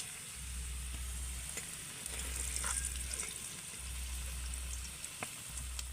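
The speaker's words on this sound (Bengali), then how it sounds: "আলুগুলোকেও কিন্তু আমি ভালো করে ভেজে নেব" Potatoes frying in oil for an egg biryani, a steady broadband sizzle with occasional pops and a low hum, continuous and fairly close with no one talking.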